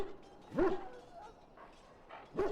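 Mabari war hound from Dragon Age: Origins giving two loud, close barks about two seconds apart, with a softer yip or whine between them.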